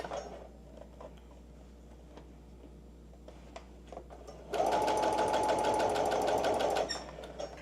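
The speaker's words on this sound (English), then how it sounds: "Go ahead and backstitch. This backstitch is fine. And then keep sewing down that line." A sewing machine stitches a dart in work pants, with a short run of steady, close, rapid mechanical whirring after some quiet handling clicks.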